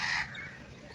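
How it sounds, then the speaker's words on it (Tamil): Crow cawing outdoors in a rainy natural setting, with one short, harsh caw at the start that fades quickly into faint background noise. "காக்கா சவுண்டு, இந்த குருவி சவுண்டு"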